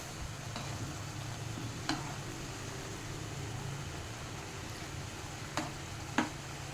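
Fish curry is stirred in a pan over a steady, hissing simmer. A few sharp scrapes and clicks from the spoon stand out now and then.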